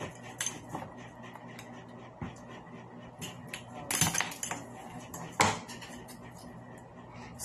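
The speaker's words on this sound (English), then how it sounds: "First, we'll be going to cut off the arm part of each spoon." Metal spoon handles snipped off with scissors, giving scattered sharp clinks and snaps of metal, with a couple of louder cracks among softer handling taps and rustles.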